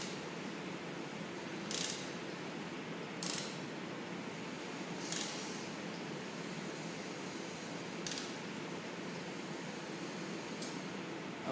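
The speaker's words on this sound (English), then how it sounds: "now we're going to rotate this wheel until we contact the piston stop" A degree wheel bolted to an engine crankshaft is turned by hand until the piston meets a piston stop, giving four or five separate metallic clicks and ratcheting ticks, close and fairly quiet against steady background noise with no talking.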